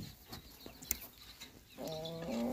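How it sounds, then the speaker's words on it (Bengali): Light Brahma chickens, two hens and a rooster, make soft clucks and a few short calls, faint and close against a quiet farmyard background. "তো দেখেন আমার এই ব্রাহ্মা মুরগি"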